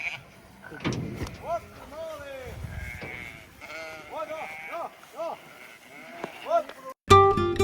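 Sheep and goats on a farm in Europe bleat repeatedly, several animals calling in overlapping wavering cries near and far, with scuffling and a short loud burst at the end.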